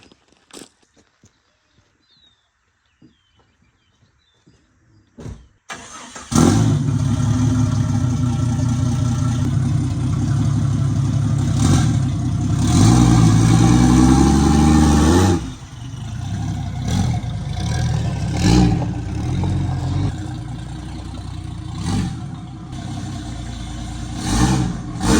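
A turbocharged Jeep Cherokee XJ that runs poorly cranks briefly after a few quiet clicks, then fires up into a loud, steady engine roar with a strong rev around the middle before settling to a rougher, fluctuating idle.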